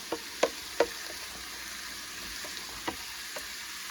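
Meat spaghetti sauce is stirred in a pot with a heavy utensil, giving a few sharp scrapes and knocks against the pot over a soft bubbling simmer.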